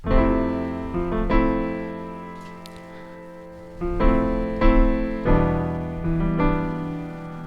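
Sustained R&B piano chords change quickly one after another, full and resonant, with a short quiet gap partway through and no voices.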